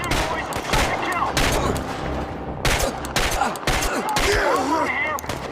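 Gunfire in the video game ChernobyLite: repeated sharp shots in bursts and volleys across the clip, loud and close, with a rumbling game soundscape underneath.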